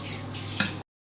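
Chopped green chillies roasting in a pan while being stirred: a brief, close scrape and clatter of a spoon against the pan with a soft sizzle, ending abruptly.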